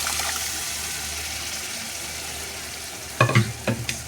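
Dal is stirred into onion and tomato frying in oil, with a steady sizzle throughout and a few louder spoon scrapes and clatters near the end.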